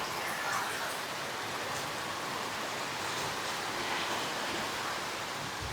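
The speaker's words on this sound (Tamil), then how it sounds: "இன்றைக்கி தாங்க சரியான மழை." Heavy rain pours down steadily in a dense, loud, unbroken hiss lasting the whole stretch, with no voices over it.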